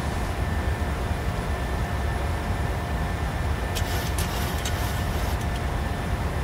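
An airliner's engines spool up for takeoff in Microsoft Flight Simulator 2020, bound from Copenhagen to Krakow, heard as a loud, steady, broadband roar throughout with a few faint clicks partway through.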